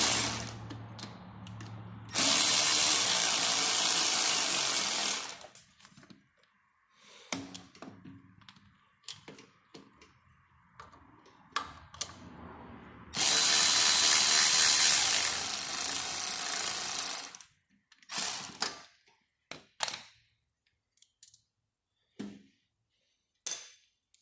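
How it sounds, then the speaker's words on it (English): A ratchet backs out the 10mm-nut, 8mm-head bolts holding a Mikuni carburetor to the manifold of an Orion RXB 150 pit bike, with two long bursts of rapid, loud clicking separated by quieter taps and handling noises. "go ahead and remove the bolts that hold it to the manifold"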